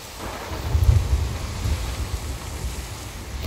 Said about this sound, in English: We're coming out of a storm.